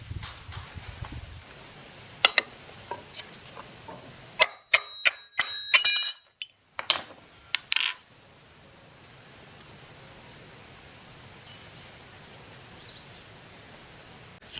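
Small metal parts clink and tap sharply as the clutch bell is driven off a salvaged brushcutter, a quick cluster of bright ringing knocks in the middle followed by quiet.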